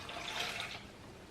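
Water pours steadily into a blender jar for watermelon agua fresca, a soft continuous splashing rush that tapers off after about a second.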